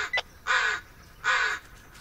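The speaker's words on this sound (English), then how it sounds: "Hey, you're a crow, that's not funny." Crow caws in the woods of the video game Blair Witch: a short clipped call followed by two longer, loud harsh caws spaced evenly apart, with no talking.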